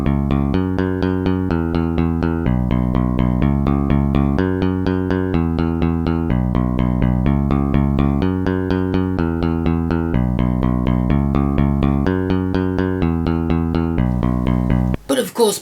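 Multi-sampled electric bass guitar notes with randomized sample start offsets play in a steady, even stream of plucked low notes, each with a slightly different attack, loud and alone without voices, ending with a brief burst of noise.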